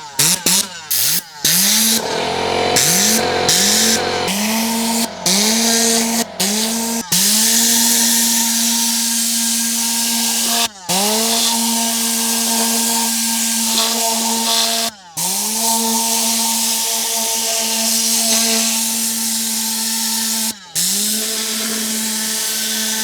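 A high-pressure, high-PSI air tool whirs loudly and close after each press, spinning up to a steady high whine several times, with short gaps as the trigger is released and pressed again.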